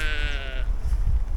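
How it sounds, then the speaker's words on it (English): A sheep bleats once, a loud, wavering call lasting over half a second, heard outdoors in Scotland during a hailstorm on a cycling trip across Great Britain, followed by rumbling wind and weather noise. "There's so many sheep."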